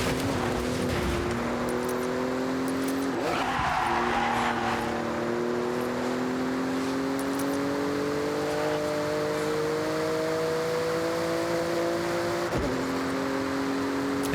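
A rally car racing in Forza Horizon 6 on a northern rally course, its engine droning steadily loud and close, the pitch climbing slowly through a long pull. A brief gravelly skid-like burst cuts in early on, and there is no talk.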